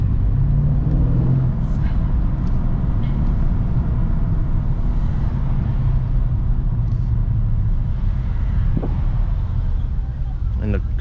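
A 2019 Mercedes C63-S AMG drives onto a freeway with a steady, deep interior engine and road rumble that stays loud and close throughout, and someone talks over it.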